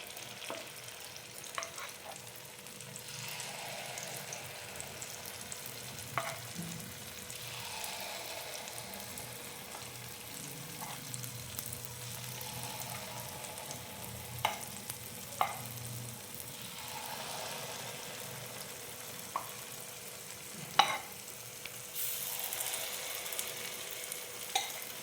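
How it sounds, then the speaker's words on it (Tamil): Sweet paniyaram batter cooking in a paniyaram pan over medium flame, a quiet continuous sizzle with occasional faint clicks and taps close by. "இந்த மாவை இப்போ இந்த பணியாரக்கல்லில் நம்ம சேர்த்துடலாம்"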